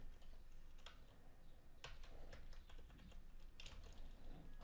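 Someone types a password on a computer keyboard, soft scattered key clicks at an irregular pace, faint and close, with no talking.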